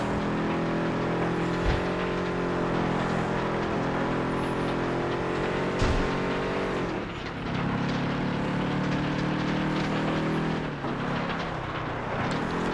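Race cars roar through a FlatOut 2 race event on PS2, several engines droning and revving continuously with shifting pitch as cars pass and collide, loud and sustained with no talk.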